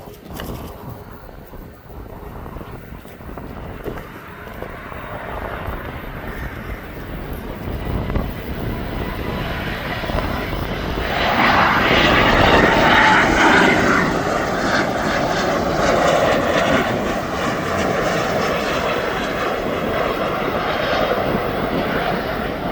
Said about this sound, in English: So the Berlin flight's down